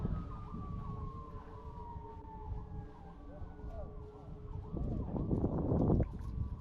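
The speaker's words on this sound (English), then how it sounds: "You hear them sirens?" Emergency sirens wail in the distance, their pitch sliding slowly over a rumbling background, with faint voices nearby.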